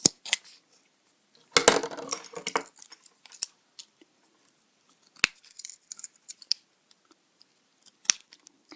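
Scissors snipping cardboard to trim the feet of a homemade Dilophosaurus model, close and crisp: a burst of rapid cuts, then scattered single snips and clicks amid near silence.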